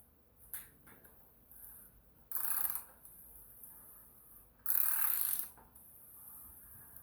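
A bicycle bottom bracket cup is broken loose by hand with a wrench, giving two short, fairly loud bursts of ratcheting and grinding metal a couple of seconds apart over a quiet background.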